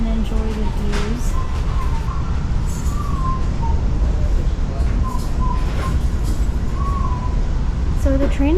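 Inside a crowded Amtrak Acela passenger car, a constant low rumble of the moving train and faint squeals run beneath nearby voices of people talking.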